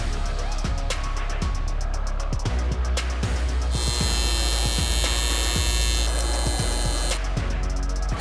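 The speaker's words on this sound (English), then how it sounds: "bend them up, and then we're gonna weld them together." Small bent metal pieces of a handmade power steering reservoir are welded together, giving a steady crackling, buzzing hiss in long close bursts over a constant electrical hum.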